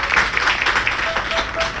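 A crowd applauds, a dense steady patter of many hands clapping at once, loud and continuous.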